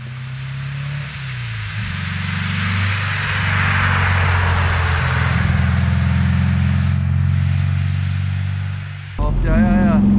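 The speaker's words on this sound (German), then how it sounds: "das macht so richtig Spaß hier durchs Voralpenland mit so einem Porsche zu fahren" A 1964 Porsche 356 C coupé with a 100 hp engine pulls steadily uphill through Alpine foothills, a continuous loud drone that holds for most of the drive before briefly dropping and picking up again near the end.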